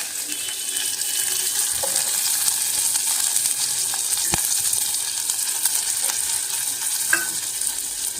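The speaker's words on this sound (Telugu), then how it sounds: "ఆయిల్ వేసేసుకొని పోపు కరివేపాకు వేసేసుకోవాలి" Curry leaves crackle in hot oil as soaked chana, moong and cowpeas are added for a breakfast upma, a steady sizzle with scattered pops and stirring clicks, no voices.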